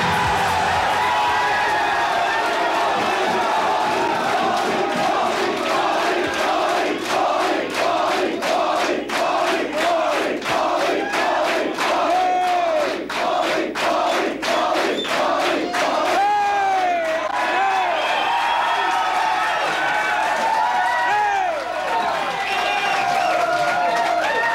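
A live studio audience at a 1984 conservative television talk show roars with sustained cheering, whooping and yelling, a loud, dense crowd noise that barely lets up across the whole stretch, with some clapping mixed in.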